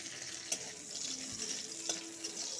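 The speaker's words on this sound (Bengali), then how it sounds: "4-5টা কাজু ছোটো ছোটো করে কেটে নিয়েছি, হালকা ভেজে দিব।" Chopped cashews frying lightly in hot ghee make a soft, steady sizzle with a couple of brief clinks, close but fairly faint, with no voices.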